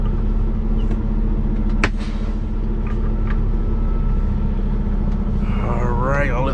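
A truck engine runs at a steady idle with a strong low rumble that holds throughout, with a brief sharp knock near the start and a faint tonal whine rising near the end.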